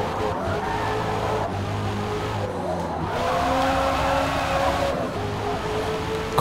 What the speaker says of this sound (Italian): Si sente il motore.